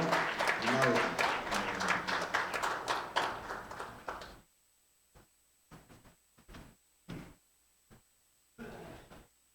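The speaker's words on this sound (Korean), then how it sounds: "큰 박수로 맞아주시기 바랍니다" A church congregation claps at a Korean prayer-house Sunday service, a dense burst of applause that thins out into a few scattered claps.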